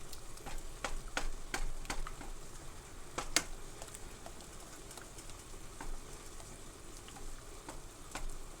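Cream of chicken soup is stirred into a hot pan, giving a soft, continuous sizzle with repeated scraping and tapping strokes of a utensil, close but fairly quiet and without talking.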